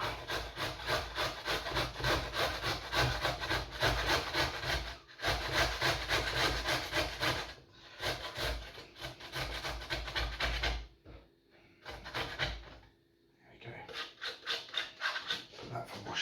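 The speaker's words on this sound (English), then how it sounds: "Grate this ginger." Fresh ginger scraped across a grater in long, steady back-and-forth rasping strokes, close and fairly loud, broken by a few short pauses with no talking.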